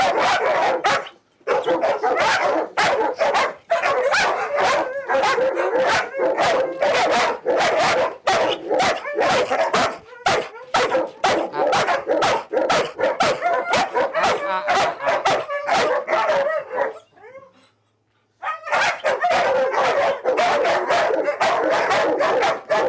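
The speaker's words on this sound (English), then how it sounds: "She is starting to try to bark over my left shoulder" A dog barks in rapid, loud bursts close by, nearly continuous for about twenty seconds, with a brief whimpering stretch near the end before the barking resumes.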